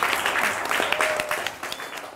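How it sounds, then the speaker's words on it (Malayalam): A school audience claps to welcome Shankaran, a seventh-grade student. The short burst of scattered, brisk hand claps is fairly close and has no talking over it. "എല്ലാരും ഒന്ന് കൈയടിച്ചേ"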